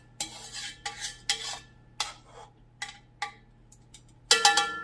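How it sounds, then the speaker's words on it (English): A metal utensil scraping and tapping the sides of a roasting pot during an oven roast: a series of short rhythmic scrapes and clinks, close and clear, ending in a louder clang over a faint steady hum. "I'm just going to scrape around the sides, get all that goodness,"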